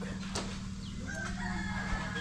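A rooster crows faintly in the distance over a steady low hum, with a few soft clucks and background noise.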